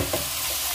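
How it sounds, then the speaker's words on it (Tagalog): Igado being sautéed in a pan, a brief, close, steady sizzle with a faint stir, and no voices. "Gisa-gisa lang na ganyan."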